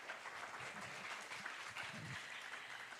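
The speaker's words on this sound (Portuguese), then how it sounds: "Palmas para a Luciana Savagé." Audience clapping for an author at a book launch for a collection of African tales, a steady indoor patter of many hands that holds at an even level from start to finish with no talk over it.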